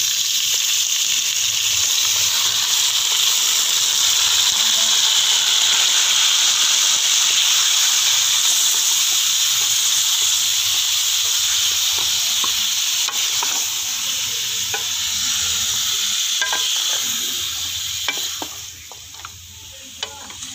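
Beef sizzling steadily in a hot frying pan for a dhaba-style masala curry, a loud, continuous hiss with stirring scrapes, easing slightly toward the end.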